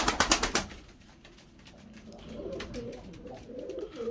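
Pigeons kept in an attic loft, with a quick burst of loud wing flapping at the start, then softer cooing and shuffling that continues in the background.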